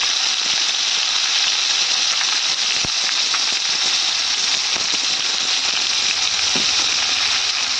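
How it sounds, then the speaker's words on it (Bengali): Fish fries in hot oil in a pan, giving a steady, loud sizzle throughout with occasional crackles and pops and no talk. "মাছগুলো কিন্তু আমি ভালো করে ভাজা হয়ে গেছে"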